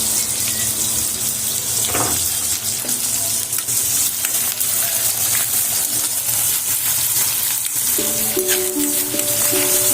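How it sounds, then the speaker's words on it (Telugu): Chopped onion and a couple of curry leaf sprigs frying in oil for a dosa side dish, a steady close hiss and sizzle running the whole time with light stirring clatter and no talk. "కొద్దిగా ఒక 2 రెమ్మల కరివేపాకు వేసి ఫ్రై చేస్తున్నానండి."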